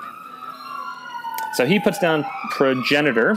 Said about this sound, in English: please pardon the sirens.